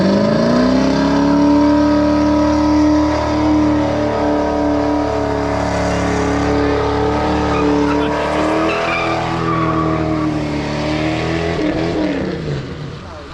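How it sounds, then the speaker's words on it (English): A car does a burnout on a wet road, spinning its front wheels, with a loud sustained engine roar and screeching tire squeal that hold steady close by before easing off at the end. "Smokeless burnout."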